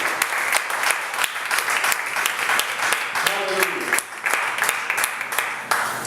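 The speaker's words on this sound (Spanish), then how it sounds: "Bríndele fuerte el aplauso al Rey de Dios." A Spanish-speaking church congregation claps loudly and steadily, a thick, continuous round of applause from many people, with a brief voice surfacing midway through.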